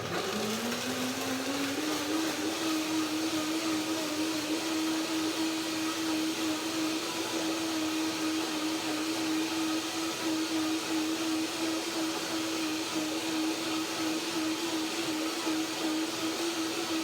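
A blender whirs up to speed and holds a loud, steady roar throughout as it purees cashews with water and vanilla.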